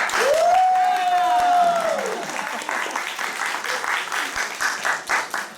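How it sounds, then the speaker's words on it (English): Loud audience applause at an improvised courtroom comedy show, with a cheering whoop rising over the clapping early on, then dense clapping and some voices continuing steadily to the end. "I'm going to have you clap your hands as loud as you can"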